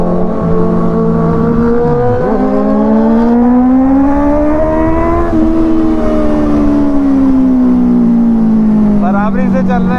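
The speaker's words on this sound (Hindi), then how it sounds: "क्या एग्जॉस्ट गूंज रहा है भाई।" A loud, continuous Honda CBR650R motorcycle exhaust roars nearby with a steady droning pitch that rises and dips, in dense traffic noise.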